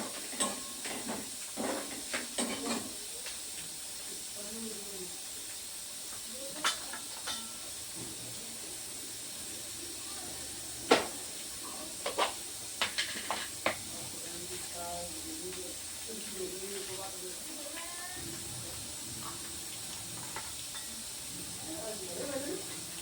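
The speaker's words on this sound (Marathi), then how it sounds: "मिरचीला पण होऊ देणार आहे मी तेलामध्ये." Green chilies fry in hot oil for an okra dish, a continuous sizzling hiss with scattered pops and utensil clinks, while a voice talks faintly at times.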